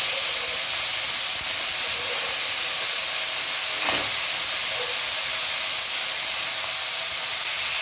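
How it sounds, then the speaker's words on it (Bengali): Crab pieces and legs frying together in hot oil for kakra kosha, a steady loud hiss of sizzling throughout with one brief sharper crackle near the middle, no talk. "এবার কাঁকড়াটা ভাজা হওয়া পর্যন্ত, মানে বেশ খড়খড়ে হয়ে যাবে এবং লাল হয়ে যাবে, সেইভাবে আমি ভাজবো"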